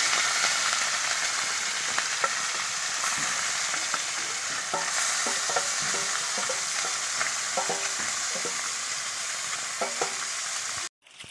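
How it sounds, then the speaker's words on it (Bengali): Fish fry in hot oil in a pan during home cooking of a Bengali lunch. A steady, close sizzle runs throughout with faint clinks and stirring taps and no talking, then it cuts off abruptly at the end. "এবার আমি এই যে মাছগুলো ভেজে দিচ্ছি।"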